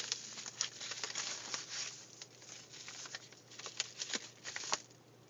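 A boxed video game's packaging is carefully cut open, giving soft close-up crinkling, scraping and small tapping sounds in a quiet steady patter, with no talking.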